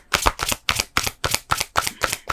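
Tarot cards being shuffled by hand, a series of about eight crisp riffling bursts in an even rhythm, close and distinct with no talking.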